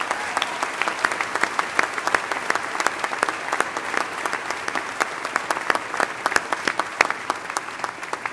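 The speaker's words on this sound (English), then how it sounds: "We need to give Don and his wife, Margene, an unbelievable round of applause." A large commencement audience at a university spring ceremony applauds a retiring couple, a dense, steady wash of many hands clapping for several seconds, with sharp individual claps popping out near the front.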